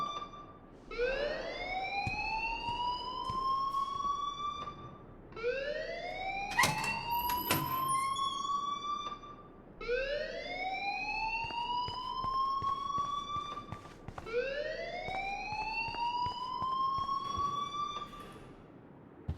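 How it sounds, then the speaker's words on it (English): A fire alarm in the video game Life Is Strange wails in four repeated rising sweeps, loud and steady, each lasting a few seconds, with short sharp clicks between them and no talk. "please turn off that alarm since that's your job"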